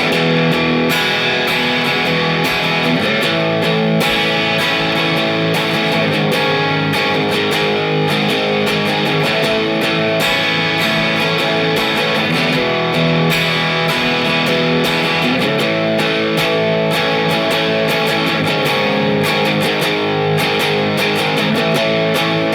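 Distorted electric guitar strums the chords of a song in a dense, continuous, loud wash of chords, steady throughout with no talking.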